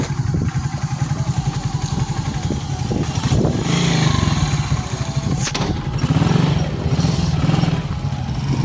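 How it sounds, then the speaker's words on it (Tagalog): A motorcycle engine putters close by with a fast, even idle pulse and a couple of light revs as the bike is parked, running throughout with no talking. "Ako paparking na lang ng tropa ko yung motor."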